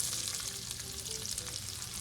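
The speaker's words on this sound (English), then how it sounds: "So I'm gonna go ahead and start caramelizing these onions." Onions fry in a pan for beef short ribs, a steady, dense crackling sizzle, close and even, with no talk.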